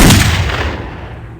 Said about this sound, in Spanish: Luego, solo se escuchó un disparo